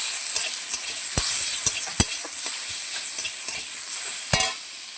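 Tomato hits a pan of meat curry in progress, giving a bright, hissing sizzle throughout with several sharp clinks and scrapes of a stirring utensil, close and fairly loud.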